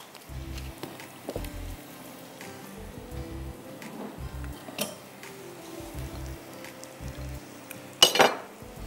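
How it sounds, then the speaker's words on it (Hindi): Spoon scraping and knocking against a pot while yogurt marinade with salt and raw meat is mixed, giving soft repeated low thumps and clinks in a steady rhythm, then a brief louder clatter near the end, with no talking. "अच्छी तरह मिक्स कर दीजिए।"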